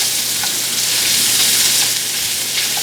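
Smoked sausage sizzling and browning in a pan over lowered heat, a steady bright frying crackle with small pops, continuous and close for the whole stretch, no voices.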